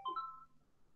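A mobile phone gives a short pair of quick electronic tones, faint and brief against a quiet room.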